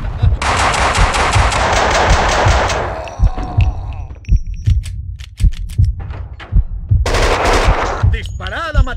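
Gunfire in the video game Max Payne 2: loud, rapid automatic bursts mixed with single shots, with a brief lull in the middle before another sustained volley.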